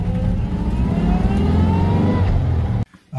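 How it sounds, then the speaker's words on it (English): A 1960 Volkswagen Bug engine pulling in first gear with the transmission's characteristic howl, a steady buzzy engine note with a rising whine over about three seconds before cutting off abruptly. "It's got the first gear howl, which is very common with these transmissions."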